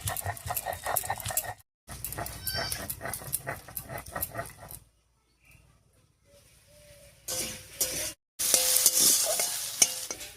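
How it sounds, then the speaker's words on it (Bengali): Fried spices and a little dried chili powder ground into a paste by hand: repeated rough scraping strokes in close bursts, broken by short pauses, with no talking. "একসঙ্গে একটুখানি শুকনো লঙ্কার গুঁড়ো মিশিয়ে বেটে নিচ্ছি"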